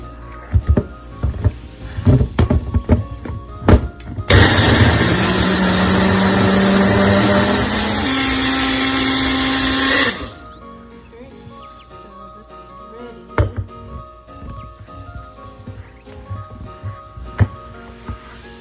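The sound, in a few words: personal blender blending berries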